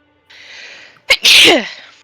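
A single loud, close sneeze, with a short inhale before the sharp burst and a breathy trailing finish.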